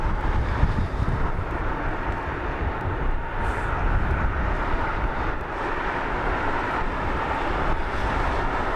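A Lufthansa jet in special livery, arriving from Frankfurt, rumbles in at London Heathrow at sunrise, a broad steady roar with low engine noise and some wind buffeting, continuous and fairly near, with no talk.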